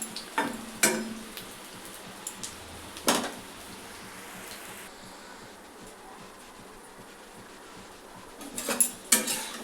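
Pakoda batter sizzles steadily in hot oil, a dense continuous crackle with a few sharp utensil clinks near the start and end. No one speaks.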